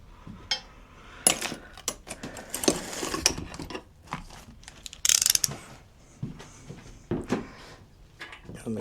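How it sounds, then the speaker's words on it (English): Metal clicks and clanks of a wrench tightening parts on a motorcycle engine being fitted into a Black Bomber build, irregular close knocks and ratcheting taps with brief scrapes, no talk. "Let me get a wrench for that."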